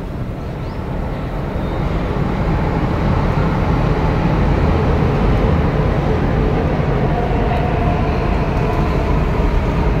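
Inside a moving passenger train, a loud, constant low rumble and roar of the carriage fills the whole stretch, steady and close, with no clear speech.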